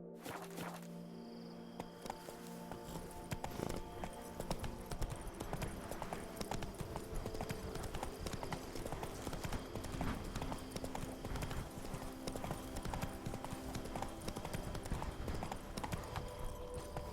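A horse gallops in The Witcher 3: Blood and Wine, a steady, fast clip-clop of hooves that runs unbroken throughout, loud and close under a bed of game sound, with no talk.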